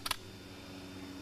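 Two quick, sharp mechanical clicks of a gun being loaded, close by, followed by a low steady hum.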